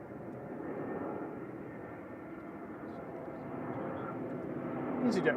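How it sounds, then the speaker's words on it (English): An Airbus A320 Classic jet roars steadily as it comes in to land at Manchester Airport, heard from a distance as a broad, continuous rumble that swells slightly toward the end. "This is OEI an A320 Classic coming in."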